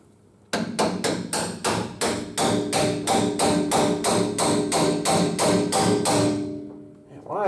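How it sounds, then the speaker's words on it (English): Sharp metallic hammer blows strike a leaf spring part on a 1951 Ford F-1 during a rear lowering spring install, about eighteen steady, evenly spaced taps ringing close and loud for several seconds before fading out. "Get my hammer."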